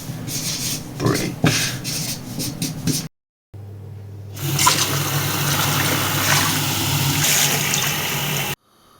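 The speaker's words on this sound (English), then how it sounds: "Hot water hitting coffee granules reminds me of a certain tree." Hot water poured onto instant coffee granules in a mug, a steady trickling, hissing pour close by that stops and then resumes for several seconds before cutting off.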